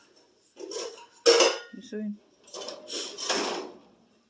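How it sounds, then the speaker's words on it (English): Dishes and cutlery clatter loudly in bursts as a dishwasher is loaded nearby, sharp clinks and scrapes with short pauses, while a voice speaks briefly. "That's my son loading the dishwasher."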